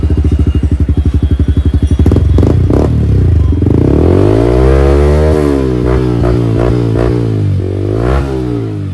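A Yamaha R15 V4 motorcycle with a modified exhaust idles with a fast, lumpy putter, then revs up loudly in rising and falling swells, close by and without talk.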